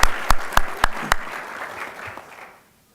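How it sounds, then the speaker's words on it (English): Audience applause at a county government state-of-the-counties address, a few sharp loud claps opening into a dense wash of clapping that fades out over about two and a half seconds. "Can we give them all a round of applause?"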